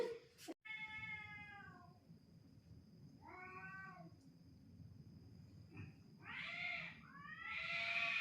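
A cat meows several times in a row, each cry drawn out and clear, with a short pause between calls and a low background rumble.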